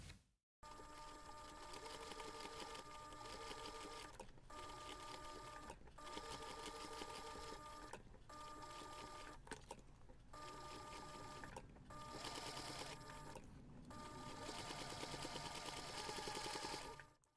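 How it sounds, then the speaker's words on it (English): A sewing machine top stitches along the edge of a small reindeer Christmas pouch with a steady, rapid close-up hum that runs almost continuously, broken by a few brief stops as the fabric is turned. "we're going to take this to the machine and we're going to top stitch along the edge of the face around all sides"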